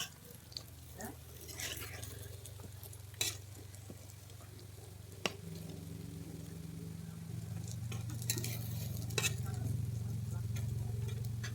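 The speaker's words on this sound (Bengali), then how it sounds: "কোফতাটাকে উল্টে পাল্টে ভেজে নেবো" Raw banana kofta balls fry in white oil and are turned over, a moderate sizzle with intermittent clicks and taps of a spatula, while a low hum runs underneath.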